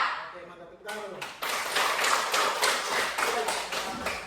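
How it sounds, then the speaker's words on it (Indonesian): Class clapping together at the start of a lesson, a sustained burst of dense group claps following a brief spoken exchange, with voices underneath. "tepuk tangan dulu"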